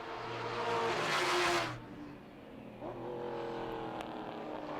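GT3 race cars, a Honda and a Viper, roar past on track, one engine surging loud and close before fading into a steadier, more distant drone.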